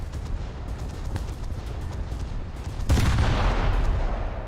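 Anti-air gunfire in the video game War Thunder, a heavy, rumbling barrage of rapid shots that swells louder near the end, with no talking.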